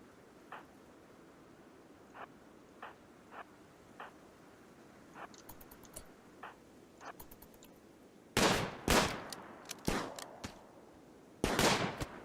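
Gunshots in RimWorld crack out as sparse, evenly spaced single shots, then give way to louder, denser bursts near the end, with no talk over them.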